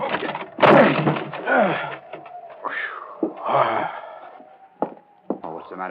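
A door is forced open with a heavy thudding bang in a 1940s radio crime drama, followed by scraping and creaking amid gasps and muttered voices.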